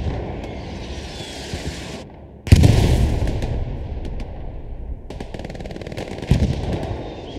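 Artillery strikes and rapid gunfire ring out on a World War II battlefield in Hell Let Loose. Bursts of machine-gun fire crackle, dip into near-silence, then return with a heavy thud and a later loud blast.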